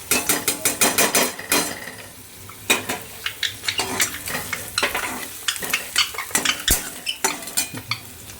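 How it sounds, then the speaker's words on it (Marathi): Nuts and chili stirred and fried in a pan, rapid repeated scraping clacks of a utensil against the metal in loud bursts over a steady sizzle, close by, with no speech. "आता त्यामध्ये नट्स आणि चिली टाकूया."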